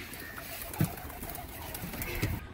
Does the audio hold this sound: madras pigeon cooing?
yes